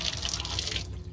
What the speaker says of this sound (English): So at this point, we're going to open the valve. And we will turn on the freshwater pump.